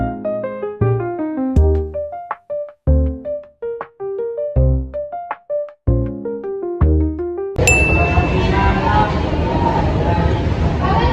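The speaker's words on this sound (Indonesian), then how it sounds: "Wah, ada notif." A phone notification ding amid a rapid run of bright bell-like chime tones in the first half, then a dense background bed of murmur and noise; a sharp high tone marks the switch.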